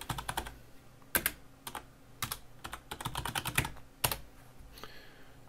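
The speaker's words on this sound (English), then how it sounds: "You type in what you're looking for." Someone types a search on a computer keyboard, with close, quiet, irregular bursts of key clicks and a few heavier keystrokes.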